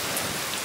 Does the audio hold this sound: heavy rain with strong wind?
yes